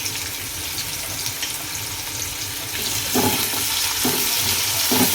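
Onion, curry leaves and a little asafoetida dropped into a hot pan for dal tadka make a steady close sizzle that grows louder partway through, with a few stirring knocks.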